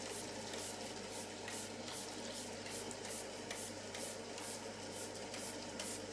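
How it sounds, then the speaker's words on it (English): Quiet, rhythmic hissing sprays from a spray bottle onto hair repeat about every half second, a steady series of short spritzes close by. "I'll spray this on my head, it helps."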